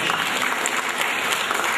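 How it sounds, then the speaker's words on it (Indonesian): A short burst of dense crowd applause from an audience at a motivational talk, thick, even clapping filling the whole moment. "Tepuk tangan dulu semua."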